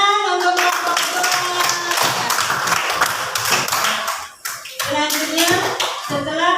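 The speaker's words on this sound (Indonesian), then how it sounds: "tepuk tangan untuk kelompok 2" Pupils in a classroom applaud a student group after its presentation, a loud run of many hands clapping that briefly dips, mixed with children's voices and chatter.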